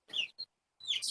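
Baby chicks cheep in a yard, with two quick high peeps followed by a short gap and then a longer burst of bright chirping, loud and close.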